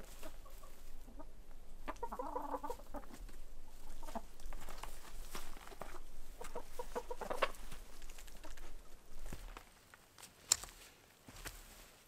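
Chickens cluck softly around a coop on an off-grid homestead in Alaska in early winter, scattered calls and rustling with occasional footsteps nearby, fairly quiet and with no talk.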